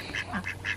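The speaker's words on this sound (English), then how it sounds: "We kept thinking it was just one duck that was getting out, but apparently it's two." Muscovy ducks quacking in a garden, several quick nasal calls in a short close burst with no talk over them.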